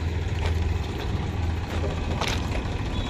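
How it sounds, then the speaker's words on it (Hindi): Outdoors at a railway station under broad-gauge construction, a wheeled tractor hauling rails rumbles steadily at a low idle-like drone, moderately loud and close, with brief scrapes and knocks above it. "आपके व्हील्स वाला ट्रैक्टर है जो ले जा रहा है।"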